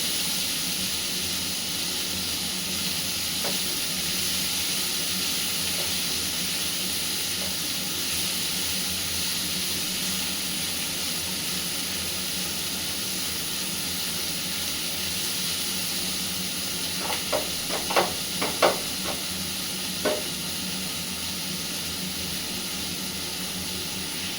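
Paneer sizzles in a hot pan as it is stirred, a loud, steady hiss filling the whole stretch, with a few brief scraping clicks near the end and no talk.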